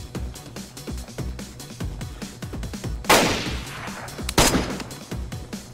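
Gunshots in the survival video game DayZ. A steady patter of rapid nearby shots is punctuated by two louder, sharper cracks, with no voices over the firing.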